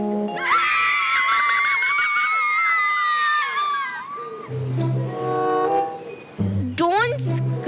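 Several women scream in an animated story about a stolen ruby in Shah Jahan's time. Loud, wavering high shrieks overlap for a few seconds, then give way to lower voices and a brief second outburst.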